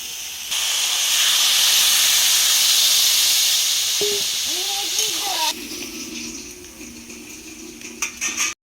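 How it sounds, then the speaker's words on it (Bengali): A pot of soybean and papaya curry coming to a boil gives a loud, steady hiss and bubbling. Brief clinks of utensils come midway, and the hiss eases to a lower simmer toward the end. "ফুটতে শুরু করেছে।"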